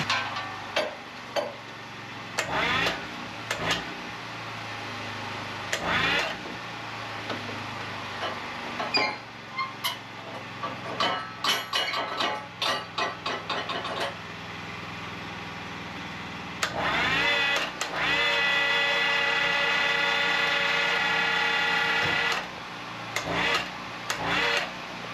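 A red oak log is rolled over on a Wood-Mizer LT15 sawmill with a carbide blade, with heavy wooden knocks and clattering thumps over a running engine hum that swells louder toward the end.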